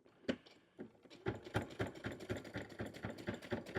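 A sewing machine stitches a bag, starting with a few separate thumps and then settling into a fast, steady mechanical chatter close by, with no speech.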